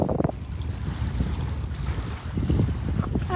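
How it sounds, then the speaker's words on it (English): Blustery wind gusts across the microphone on a cobbly beach during a nearshore fish seine survey, a continuous rumbling roar with surf noise beneath and faint voices briefly audible. "it is very blustery and windy out here"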